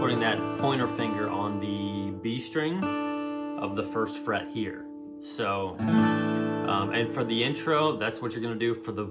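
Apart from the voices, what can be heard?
No everyday noise stands out behind the speech.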